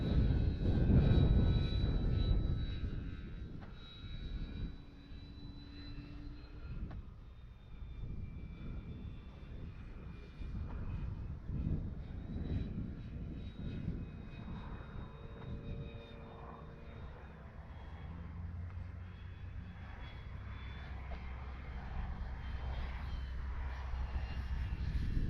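A Dynam F6F Hellcat RC model plane with flight issues buzzing overhead on its maiden outing: a steady electric motor whine drifting near and far, with a louder pass at the start and quiet outdoor ambience underneath.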